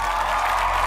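A studio crowd applauds and cheers steadily for about a second at a live game show, the clapping dense, close and even throughout with no talk over it.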